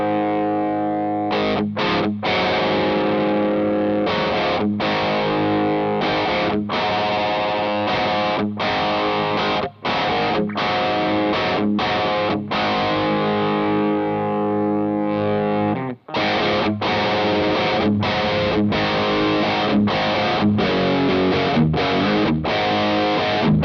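Electric guitar played through the dirty channel of a Peavey Bandit Silver Stripe amp, thick distorted chords chugging in a steady rhythm with brief stops, loud and continuous.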